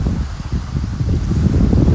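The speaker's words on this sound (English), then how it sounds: "It's pretty windy." Wind buffeting the microphone with a steady low roar and rumbling gusts, loud and close, with no voices.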